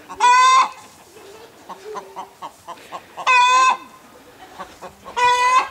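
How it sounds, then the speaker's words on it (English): Baby chicks on a small homestead farm give three loud, piercing calls at spaced intervals, with softer quick chirps scattered between them nearby. "Let's check how the baby chicks are doing."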